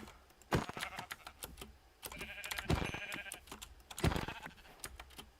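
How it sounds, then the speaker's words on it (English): A few Minecraft sheep bleat in short, separate calls, with soft clicking and tapping in between; fairly close, no talking. "there's a bunch of sheep here"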